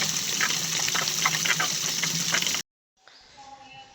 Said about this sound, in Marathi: पाणी भरून घेतलं.